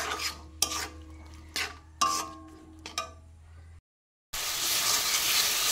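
A spoon stirs masala and vegetables frying in oil in a pan, making four close, scraping strokes over a low sizzle. A brief silence follows, then a loud, steady hiss of frying.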